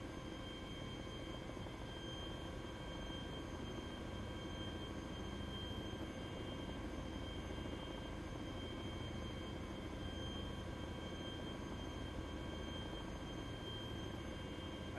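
Heavy Chinook twin-rotor helicopter in flight within a video game, a steady, dense engine and rotor drone holding at constant loudness throughout with no talking.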